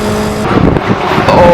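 Historic Formula Ford 2000 race cars at Croft circuit, a loud engine roaring close by through the Jim Clark S's, with the pitch rising and shifting as a car passes, over steady wind noise.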